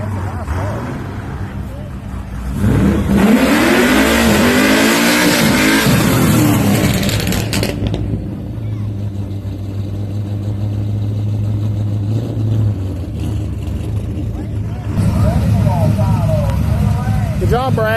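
Race car engines rev and accelerate at 304 Motorsports Park, a loud, sustained roar rising and falling in pitch as cars pass nearby, with people talking underneath.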